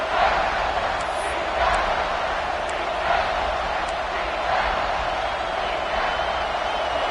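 A football stadium crowd roars for the defense on a big third down in the red zone, a loud, sustained wash of cheering and yelling that holds steady throughout.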